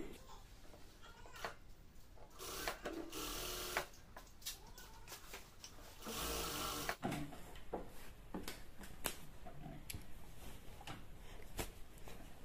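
A sewing machine stitching fabric over elastic on a salwar waistband, faint rapid mechanical chatter in short bursts with pauses, clicks and fabric handling between runs.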